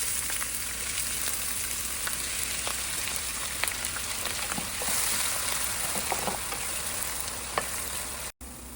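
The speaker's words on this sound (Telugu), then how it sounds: "ఇలా ఫ్రై అయ్యాక మనం ఆల్రెడీ కట్ చేసి పెట్టుకున్న ఆనియన్ యాడ్ చేస్తున్నాం" Chopped onions fry in hot oil with curry leaves for a spicy chicken curry, giving a dense, steady sizzle with faint crackles and stirring scrapes close by, uninterrupted apart from a brief cut near the end.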